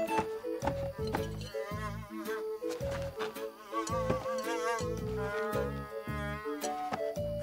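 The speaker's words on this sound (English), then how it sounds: "I can hear something. It's buzzing." A buzzing insect drones steadily over rhythmic music with plucked and pulsing tones, the buzz wavering in pitch throughout.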